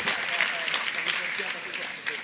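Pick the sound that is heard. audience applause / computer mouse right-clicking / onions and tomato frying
audience applause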